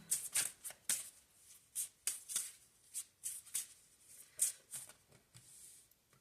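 Tarot cards are riffled and shuffled in quick soft bursts, a steady run of close papery flicks and taps against a quiet background.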